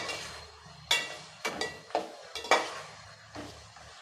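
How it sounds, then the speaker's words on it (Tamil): Brinjal sautéing in a pan for a dried fish curry, a steady low sizzle broken by several sharp scraping stirs and clinks of a utensil against the pan, close and clear with no voices. "பாருங்கள், கத்திரிக்காய் சேர்த்து நல்லா வதங்கிடுச்சு"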